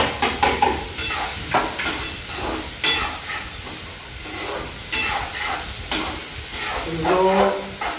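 Vegetables fry and sizzle in a pan as salt, turmeric, chili, asafoetida and garam masala are added, with repeated scraping stirs of a spoon against the pan over a constant loud hiss.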